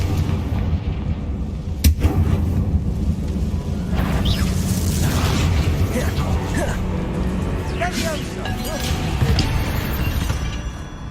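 Fiery Confringo blasting curses explode during Hogwarts Legacy spell combat, with deep rumbling booms and crackling bursts under a dense, continuous wash of game noise while a player talks.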